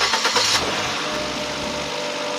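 A Suzuki Jimny JB64W engine, just fitted with a new battery, cranks briefly then catches and settles into a steady running hum, close and fairly loud.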